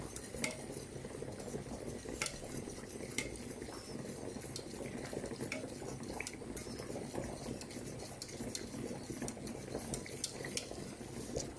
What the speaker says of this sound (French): je remue un petit peu, je vais laisser monter en température et bouillir